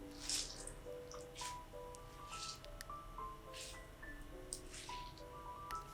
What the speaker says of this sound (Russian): И теперь точно так же берем картошку и хорошенько отжимаем.